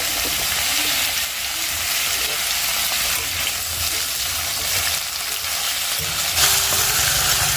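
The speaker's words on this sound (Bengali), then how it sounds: "তেল গরম করেই ডাটাগুলো আমি দিয়ে দিলাম এবার ডাটাগুলো একটুখানি ভেজে নেবো" Vegetable stalks fry in hot oil in a home kitchen, giving a steady, loud, close sizzle that holds evenly throughout, with occasional stirring and no talking.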